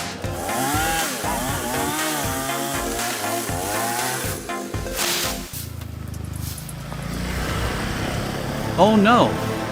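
Big chainsaw cutting into a towering mahogany tree, loud and continuous with rhythmic revving surges, then shifting to a lower idle rumble; a voice is briefly heard near the end.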